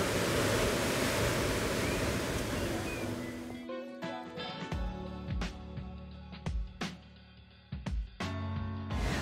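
Sea waves wash against the coast at Torres, Rio Grande do Sul, as a loud, continuous rushing surf for several seconds. Then the sound cuts to quieter, scattered knocks and clatter.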